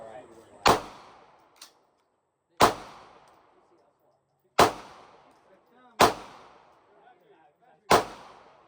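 Five sharp, loud gunshots from a Glock 23 and a Hellpup pistol ring out one at a time at an outdoor range, with about a second or two between shots and a short echo tail after each.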